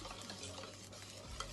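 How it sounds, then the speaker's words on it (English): A whisk works steadily through a white sauce in a pan on the heat while milk is added. A quiet continuous stirring and light sizzle runs briefly, close and low in level. "And you need to keep whisking it."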